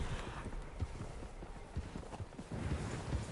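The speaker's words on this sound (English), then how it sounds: "Horses, quite a few of them." Several horses' hooves clip-clop on the ground in Red Dead Redemption 2, a soft, steady walking rhythm of many hoofbeats at moderate distance, with no talk.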